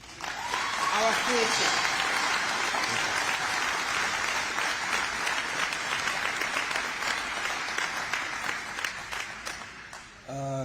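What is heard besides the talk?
audience applause at ribbon cutting ceremony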